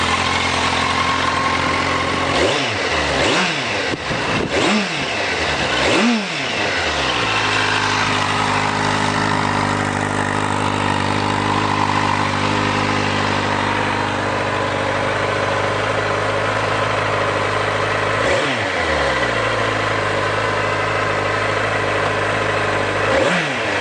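A 2016 Kawasaki Z800 fuel-injected motorcycle with a single two-outlet muffler idles steadily between several sharp throttle blips, each rev rising and falling quickly, close and loud with no talking.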